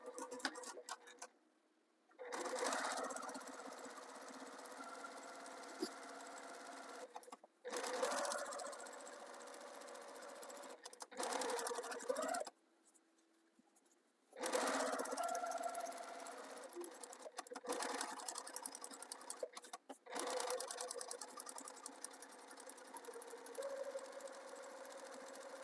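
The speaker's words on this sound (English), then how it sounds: "I'm going to sew them together with 1/4 inch seam allowance." A sewing machine stitches Christmas stocking pieces together at a quarter-inch seam. It runs in several bursts of fast, rhythmic mechanical chatter, separated by short pauses, and sounds close and steady.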